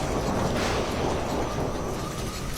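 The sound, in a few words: violent storm with strong wind in a cartoon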